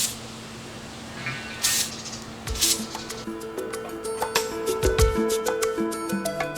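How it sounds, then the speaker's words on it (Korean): Toxic spray is released in short hissing bursts onto a habu snake, with soft squishy and rattling handling noises between the sprays and no talking. "하부에게 뿌리면 20분 내에 죽어버리는 유독성 스프레이."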